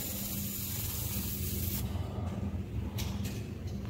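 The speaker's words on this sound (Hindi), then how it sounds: "एयर प्रेशर से जितना भी डस्ट सैंड जो भी होगा देख सकते हैं कैसा स्प्रे करके निकाल रहे हैं" Compressed air sprays dust and sand off the chain of a Royal Enfield Classic 350 during its first service, a steady close hiss over a low workshop hum with short pauses and bursts.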